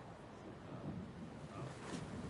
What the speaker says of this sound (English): Getting rough out there. The waves are picking up.